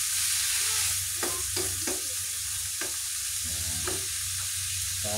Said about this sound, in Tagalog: Madali lang po lutuin itong ating ampalaya kasi yan, haluin lang po natin